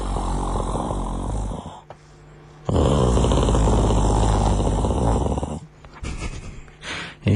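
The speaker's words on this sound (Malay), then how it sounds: "dahsyat betul suami awak berdengkur" A husband's heavy snoring, recorded on a phone with an added echo effect, comes in loud rasping, reverberant bursts separated by short quieter gaps and ends with a sudden renewed snore.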